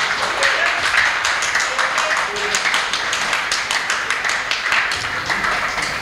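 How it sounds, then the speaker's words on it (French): Church conference audience applauding with steady, dense clapping throughout, fairly close and continuous, with some voices mixed in underneath. "Applaudissez pour vous-même."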